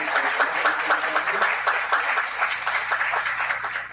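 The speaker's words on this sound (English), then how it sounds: "I'm going to try to give them a round of applause." Sustained applause from a conference audience for a panel on Islamophobia, a dense even wash of clapping heard fairly close and holding steady for the full stretch.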